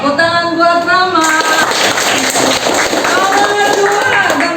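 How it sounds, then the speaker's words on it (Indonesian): A classroom of students claps for a classmate, steady close applause layered with children's voices and chatter throughout. "Tepuk tangan buat Rama."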